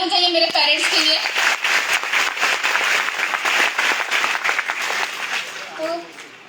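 A seminar audience in Guwahati gives loud, dense applause for the speaker's parents. A few voices ring out at the start, and the clapping tapers off near the end.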